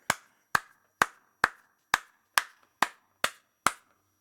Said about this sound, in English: a round of applause to Kendrick the fucking Lamar